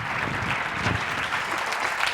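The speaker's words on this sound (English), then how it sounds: "We have a big round of applause for Carlos." Steady, dense applause from a live science-lecture audience for a volunteer, loud and continuous throughout with no voices standing out.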